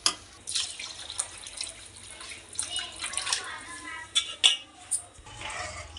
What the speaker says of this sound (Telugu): తగినంత వాటర్ పోసేసుకోవాలి మనం